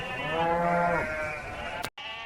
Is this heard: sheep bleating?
yes